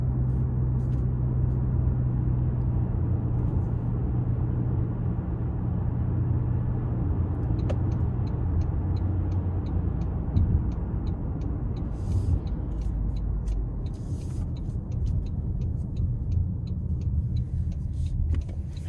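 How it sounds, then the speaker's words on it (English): A 2026 Toyota Camry LE in sport mode pulls hard up an interstate on-ramp, its engine a steady low rumble under road and tire noise heard from inside the cabin, with no talking. "Now we're gonna put it in the sport mode and give it a good pull getting on the interstate"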